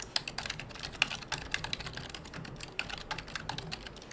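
Rapid keystrokes on a computer keyboard while Python code is entered, irregular clicks with small bursts, fairly close and moderately quiet over a faint room hiss, no voices.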